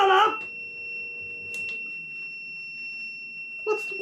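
A home alarm beeps in a brewing setting, two steady high tones running through the whole stretch, with brief bursts of a voice at the start and end and a few clicks in between.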